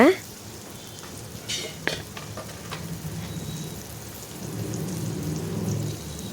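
Curry leaves and a couple of dried red chillies sautéing in a pan for a greens stir-fry: a steady, fairly soft sizzle with a few sharp clicks of stirring, swelling louder near the end.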